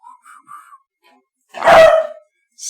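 Sassy the dog gives a single short bark near the middle, preceded by a few faint squeaky whines and followed by a brief faint yip.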